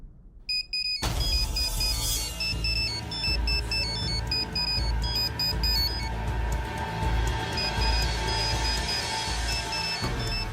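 A phone rings with a repeating electronic ringtone pattern, loud and steady over a dramatic background music bed in a television serial scene, without talk.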